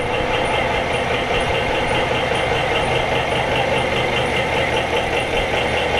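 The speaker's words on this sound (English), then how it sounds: "This is a high pressure pump." A high pressure pump in the McMurdo desalination plant, forcing seawater through at over 800 psi, runs as a loud, steady mechanical drone with a constant hum and no pauses, filling the room the whole time.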